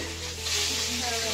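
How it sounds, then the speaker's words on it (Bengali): Fish sizzling as it fries in a pan, a soft steady crackle close by with a faint hum and murmur in the background. "ও মাছ ভাজাটা হয়ে গেছে।"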